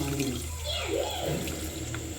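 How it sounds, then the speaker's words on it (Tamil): Strained tamarind water pours into a pot for a crab rasam, a steady liquid splashing and gurgling that runs continuously through the short stretch at moderate volume. "அடுத்தது புளி தண்ணியை கரைச்சி ஊற்றியாச்சு"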